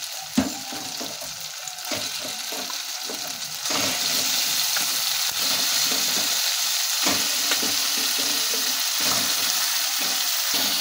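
Meat hits spice paste that has already been fried until the oil separates, then sizzles loudly with a constant crackle while a utensil stirs and scrapes it, growing stronger after a few seconds.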